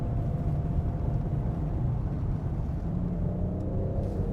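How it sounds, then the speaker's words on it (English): Inside a 2018 Maserati Ghibli on the move, a low, even road and engine rumble fills the cabin, steady and subdued with no voices. "as you can hear, it's very well damped and quiet in here"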